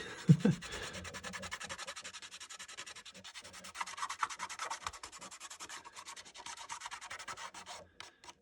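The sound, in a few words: rubbing liquid mask off a model with a finger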